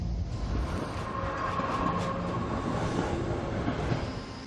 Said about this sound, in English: this time taking the train out of Birmingham New Street over to Wales